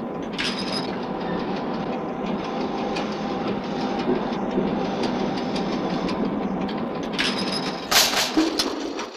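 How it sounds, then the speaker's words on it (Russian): Train under emergency braking, a loud, continuous rumbling grind of wheels and carriages with clattering, and a short burst of hissing and screeching near the end. "Произошел сильный толчок, экстренное торможение. Поезд остановлен."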